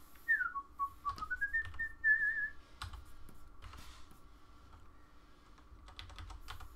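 Someone whistles a short melody, a few sliding notes and a held tone, alongside scattered keyboard clicks and a faint background hum.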